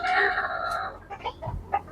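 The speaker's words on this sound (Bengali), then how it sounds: "এই যে আমাদের মোরগ মুরগি" Desi and Faomi hens cluck close by with a rooster's crow-like call at the start, followed by scattered short clucks and squawks.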